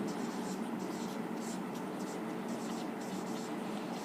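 A pen or marker scratches steadily across a board in continuous, faint strokes against a soft, even background hiss.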